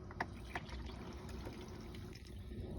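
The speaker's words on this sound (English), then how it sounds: "Just basically fill the bowl up with water," Water runs into the toilet bowl of a Thor motor coach, a steady gurgling fill with a few small splashes near the start, with no talking.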